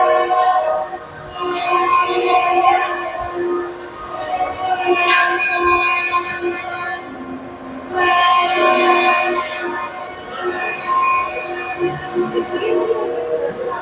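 An Indian Railways train rumbles nearby at Nehru Park railway station as its horn sounds in several long, loud blasts separated by short pauses.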